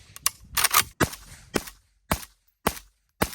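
Rifle gunshots at an outdoor range, fired through a HuxWrx Flow Range 36 TI silencer: six or seven sharp suppressed cracks in a quick, fairly even series, close and loud with brief echoes trailing each shot.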